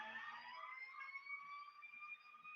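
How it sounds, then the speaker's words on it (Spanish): A fire truck siren caught in heavy traffic wails with a steady, slowly sliding tone, heard faint and distant throughout the moment without any voices. "Como hay bastante tráfico, no lo dejan pasar al camión de bomberos."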